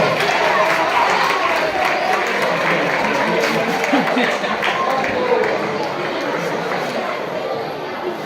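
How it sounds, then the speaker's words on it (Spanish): An audience at a school Christmas festival applauds and cheers, a loud, sustained wash of clapping mixed with crowd chatter and shuffling in a hall, with voices audible underneath. "Un fuerte aplauso, por favor."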